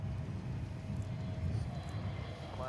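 American Airlines Airbus A321neo arriving at Dallas/Fort Worth Airport: a low, distant rumbling engine roar that holds steady, fairly faint and continuous for a few seconds.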